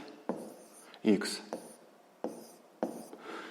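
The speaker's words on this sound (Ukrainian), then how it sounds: "Давайте ми його запишемо." A fraction is written by hand in short, quiet scratchy strokes and taps of pen on paper, close by, with a voice speaking briefly among them.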